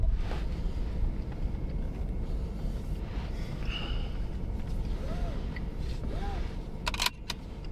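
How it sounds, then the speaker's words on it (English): Strong wind rushes and buffets a microphone outdoors during a Kansas supercell storm, a constant loud roar with gusty swells, a couple of faint chirps, and a brief click near the end. "You can hear the wind here."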